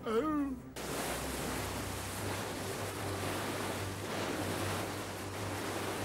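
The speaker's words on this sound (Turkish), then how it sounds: "okyanusun ortasındayız" Ocean waves wash steadily around a ship drifting in open water, a continuous loud surf-like rush with low rumble after a brief voice at the start.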